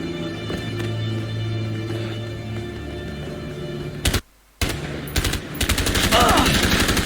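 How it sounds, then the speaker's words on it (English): Gunfire in the video game A Way Out: rapid automatic bursts crackle loudly near the end, following a stretch of steady background noise and a brief moment of silence. "Good shooting, Tex."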